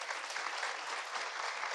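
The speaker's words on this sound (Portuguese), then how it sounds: "uma salva de palmas para o Ed também," A short burst of dense, steady applause from a conference audience, even and continuous without any voices.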